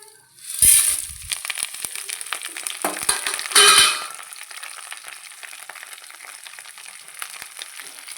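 Tempering spices fry in hot oil in a pan with crackling sizzle, two louder spattering bursts early on, then a steadier, softer frying hiss.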